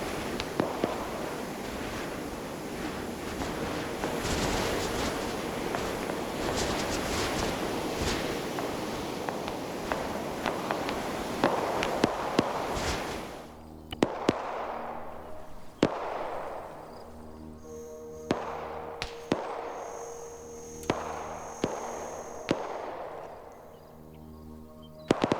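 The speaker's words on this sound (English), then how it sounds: "Shots." Gunfire in a military video game, a dense burst of shots and explosions at first, then several sharp separate cracks spaced apart in a quieter stretch.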